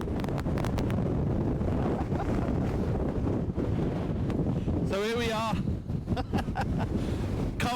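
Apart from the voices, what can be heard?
wind gusting on microphone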